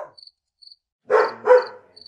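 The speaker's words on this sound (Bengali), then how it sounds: "খানিকটা দূরে একটা কুকুর কয়েকবার ডেকে চুপ করে গেল।" On a quiet night after a storm, a dog somewhere off in the distance gives two short, muffled barks while crickets chirp steadily.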